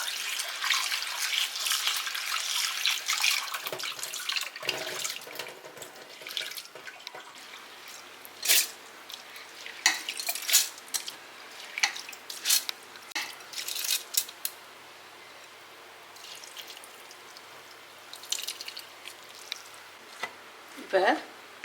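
Soaked rice is rinsed in water in a home kitchen before grinding for thokku paniyaram, giving irregular splashes, drips and sloshing that come and go with quiet gaps between.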